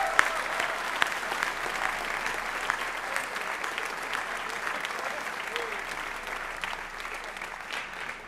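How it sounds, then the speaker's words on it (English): Steady, moderately distant applause from a seated audience at a school academic awards program, with dense clapping that holds evenly throughout and occasional sharper individual claps standing out. "Let's give a round of applause for that."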